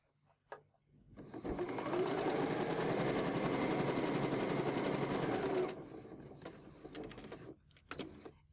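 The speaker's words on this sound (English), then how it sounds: "So now we're going to stitch down this line here using a 1/4 inch seam allowance." Sewing machine stitching a quarter-inch quilting seam through fabric, a steady close mechanical whir running for about four seconds, followed by small clicks and fabric handling sounds.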